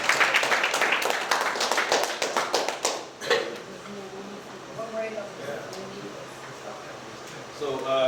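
Meeting participants clap briefly for about three seconds, a dense run of close hand claps at the start, then the clapping stops and quieter room noise and a few indistinct voices continue.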